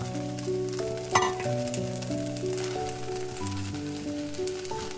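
Soaked sabudana and boiled potatoes fry in a pan with a soft, steady sizzle under background music, plus a brief clink of a utensil partway through.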